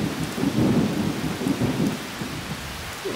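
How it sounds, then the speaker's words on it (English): Loud thunder rumbles under steady heavy rain in the farming game Harvest Moon: Save the Homeland, with deep rolling booms throughout and no talk. "Got some really loud thunder here."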